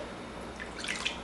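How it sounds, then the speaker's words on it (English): Homemade lemonade tinted with green food coloring is poured into a glass, a brief, close trickle and splash of liquid rising at the end. "I'm going to pour some of it in there"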